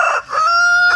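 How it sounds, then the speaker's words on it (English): A rooster crows once, loud and close, in a clear drawn-out call that ends in a sustained tone. "Don't you crow at me, punk."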